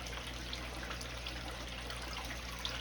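Water runs slowly through a gold cleanup sluice, making a steady close trickle and wash that holds an even level throughout with no talk over it.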